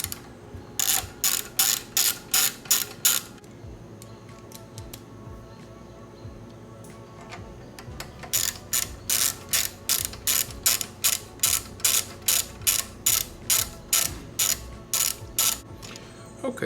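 A ratchet tightening bolts on the FE290D engine of a Kawasaki Mule 500 KAF300 B1, clicking in rapid even bursts of strokes, pausing for a few seconds, then resuming in a longer run of close, sharp clicks.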